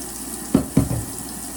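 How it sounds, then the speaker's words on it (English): Water splashes from a running tap into a sink, with two brief louder gushes as hands move under the stream, no voices. "First step, washing my hands."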